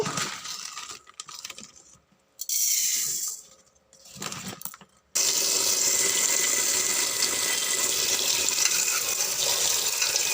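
Rice grains being washed in water at home, with swishing and splashing bursts separated by quiet gaps, then a steady rush of running water filling a pot, close and fairly loud, no talking.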